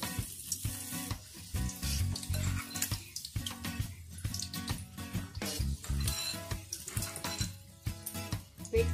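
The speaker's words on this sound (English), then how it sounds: "Make sure it's warm enough to deep fry this one, so you don't waste the heat." Smelt fish omelette deep frying in hot oil, a dense continuous crackle and sizzle with occasional clatter, close and moderately loud throughout.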